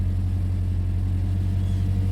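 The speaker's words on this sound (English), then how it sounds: "All right, so get the engine going." A 2010 Scion xD engine idles steadily nearby, a continuous low rumble that holds even and unbroken throughout.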